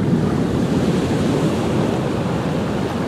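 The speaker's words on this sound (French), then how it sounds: "l'eau monte par ici. Je suis emporté par la houle qui m'entraîne." Sea swell and waves wash continuously in a loud, dense rush of water, close by with steady turbulence and wind buffeting, and no voices.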